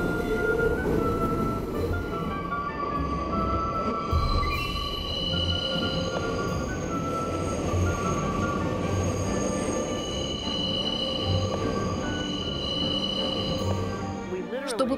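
A New York subway train runs through an underground tunnel loop, with a continuous loud rumble of wheels on rails, high metallic squeals from the curve, and rattling carriages throughout.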